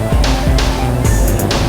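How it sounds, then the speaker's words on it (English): Helicopter passing outside an open window, a steady loud rumble with a regular chopping pulse about three times a second, close and continuous throughout. "Oh, that's a helicopter, excuse me."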